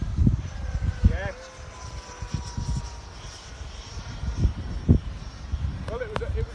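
An FMS Avanti model jet takes off on an extremely windy day, its thin whining engine rising and falling faintly in the distance beneath gusting wind buffets and people talking nearby.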